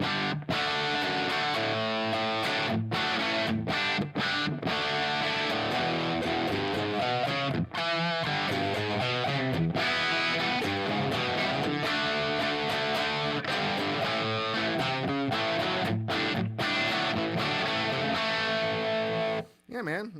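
An electric guitar plays through an amp with a direct drive distortion pedal for a thicker Marshall-style crunch, loud and sustained with dense chords and brief gaps, ending in a sudden drop.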